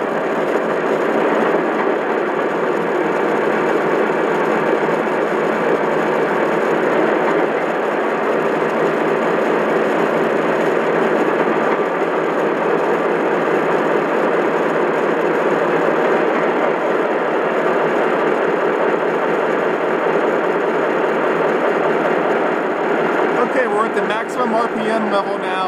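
A Lionel Vision Line Baldwin Centipede model locomotive runs with its engine sound and spinning fans, a steady, loud mechanical drone and whir sustained throughout with someone talking over it.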